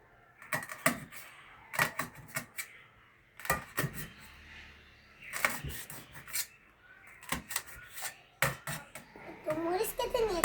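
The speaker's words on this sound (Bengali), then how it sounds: "কুচি কুচি করে এটাকে এখন আমি মরিচ কেটে নিচ্ছি" Chili peppers being finely chopped with a knife in irregular bursts of quick taps, with pauses between; faint background voices.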